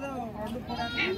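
Sheep bleat at a livestock market in Pebbair, Wanaparthy district, Telangana, where twin-born sheep are sold. The bleats are short, fairly close calls over steady crowd voices and market chatter.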